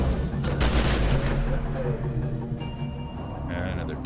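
Rapid bursts of gunfire in the video game Secret World Legends crackle loudly with a low rumble beneath, mixed with game effects and a voice speaking over it.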